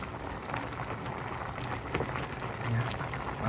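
Sautéed vegetables boiling in a cooking pot, a continuous bubbling and crackling simmer heard up close, with no speech.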